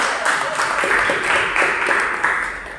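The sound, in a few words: applause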